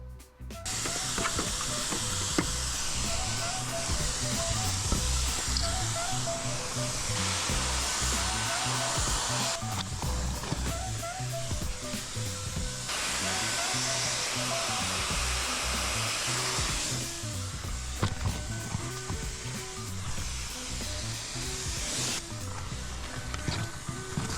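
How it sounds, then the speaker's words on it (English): Steamer working on an ice dam on a house roof, a steady loud broadband hiss running continuously with slight surges, no speech over it. "So I use steam to dice the dam into manageable chunks."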